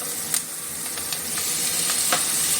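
Chopped tomatoes and green chillies hit a hot pan with onions and sizzle steadily, a bright continuous frying hiss with occasional stirring scrapes, close and clear with no talking.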